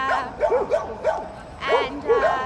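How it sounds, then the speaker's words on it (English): Friendly Bulgarian street dogs on a city street in Sofia give a run of short, yelping barks and yips in a quick irregular series, fairly close and clear over the background street noise. "They're the friendly Bulgarian street dogs."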